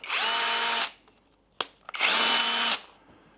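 A power drill with hammer and normal drilling modes whirs loudly at high speed for nearly a second, stops, a few clicks follow, then it runs again for about a second.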